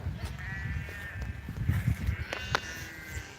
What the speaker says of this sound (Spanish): lo que berrean las ovejas